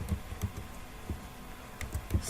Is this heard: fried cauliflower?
no